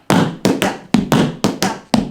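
Tap dance steps in a stamp, brush, ball, heel pattern sound as a quick, crisp run of about eight sharp shoe taps and stamps on a hard floor, close and loud.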